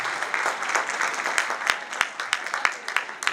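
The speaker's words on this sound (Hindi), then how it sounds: "Give yourself a big round of applause, ladies and gentlemen" An audience applauding at a corporate felicitation event: a dense patter of many hands clapping, moderately loud and fairly close, with a few sharper individual claps standing out and a voice faintly underneath.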